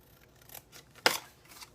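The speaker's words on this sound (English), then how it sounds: "So the next thing we need to do is cut right through here." Scissors snip through material for a small basket purse, a couple of quiet close-up cuts with one sharper, louder snip in the middle.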